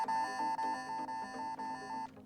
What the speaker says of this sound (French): le réveil nous a cassé les oreilles